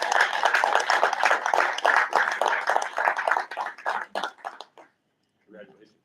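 A small group clapping at a school board meeting to honor a female wrestler, a few seconds of scattered, close applause that thins and stops, followed by a brief murmur of voices.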